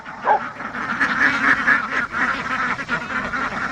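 Ducks quacking and honking at a pond, a busy overlapping chorus of nasal calls at close range, continuous with no talk.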